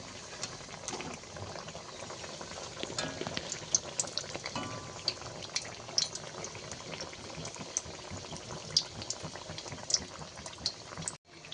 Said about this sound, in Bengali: চপগুলো আমরা উল্টিয়ে পাল্টিয়ে বেশ লাল লাল করে ভালো করে ভেজে নেব।